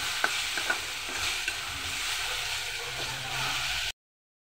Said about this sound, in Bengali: পেঁয়াজটাকে আমি এখন খুব ভালো করে ভেজে নেব একটু